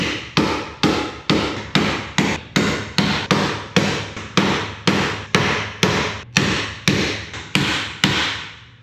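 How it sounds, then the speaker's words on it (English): A hammer strikes the metal hinges of a 1972 Allis Chalmers M65 road grader in an even series of about seventeen sharp, ringing knocks, close and loud, with no voices. "I'm gonna tap on these hinges and see if I can kind of seat them up where they belong"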